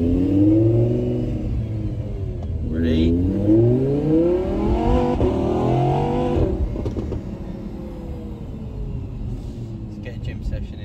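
A V10 car engine blips and revs after a downshift during an in-car drive, loud and close, its pitch sweeping up and down in several surges before settling to a lower drone, with brief talk.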